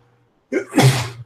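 One sharp, close sneeze bursts out after a short quiet moment, with a quick intake and a loud, breathy explosive release during a tabletop gaming session.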